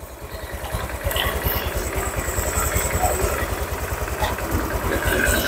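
A Honda Vario 150 scooter with a radiator that overheats and loses coolant idles up close in an even, rapid putter, a light clatter riding on top while someone talks over it.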